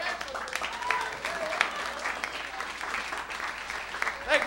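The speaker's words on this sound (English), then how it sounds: "Round of applause for Angela." A stand-up comedy club audience applauds, with dense clapping throughout and scattered voices and cheers mixed in.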